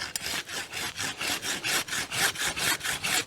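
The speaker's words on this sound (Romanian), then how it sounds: "Acum facem cu ferăstrăul" A hand saw cuts through a tree branch during winter pruning, with steady back-and-forth strokes in a quick, even rhythm of about a dozen rasping passes, close and fairly loud.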